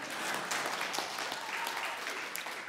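Church congregation clapping for a pastor's fishing story during a Sabbath service, a steady moderate-level patter of many hands lasting the whole stretch with a brief voice mixed in.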